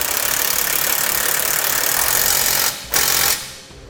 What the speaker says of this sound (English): Once you've got it started, you can tighten it down.